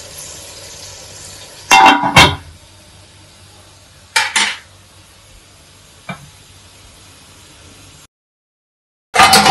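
Tomatoes and milk cook in a covered pan for pudina pulao, giving a low, steady simmering hiss broken by a few sharp clanks of lid and pan, then a brief silence.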